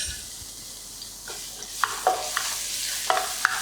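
Chili and garlic sizzle in hot oil in a wok for Thai drunken noodles, a steady frying hiss broken by several sharp scraping stirs of a spatula close by.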